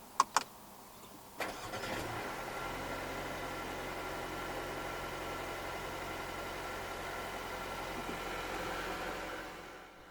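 A 2020 Mercedes-Benz A 250 AMG Line saloon starts by push button: a couple of sharp clicks, a brief crank, then the engine catches and settles into a smooth, even idle heard up close.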